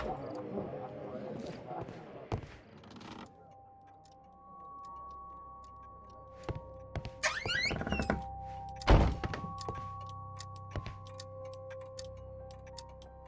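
A key is turned to unlock a door in the video game Sherlock Holmes: Crimes and Punishments, giving a few crisp metallic clicks and hollow thunks spread over several seconds against quiet ambience, with brief talk early on.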